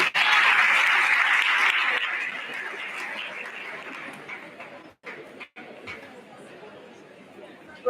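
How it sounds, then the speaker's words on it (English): A crowd at a university freshers orientation claps after a professor's speech. The applause is loud at first and thins out within a few seconds into scattered claps and chatter. "Round of applause for our DVC professor"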